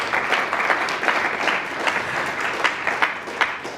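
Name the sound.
audience applause at a conference panel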